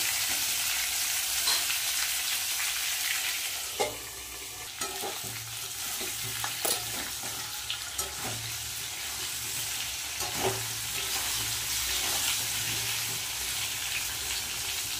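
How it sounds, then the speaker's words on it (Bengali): Potato, pointed gourd and pumpkin pieces fry in a pan with a continuous close sizzle. Repeated spatula scrapes and clinks from stirring punctuate it across the whole stretch. "ভালো করে একটু ভেজে নেব।"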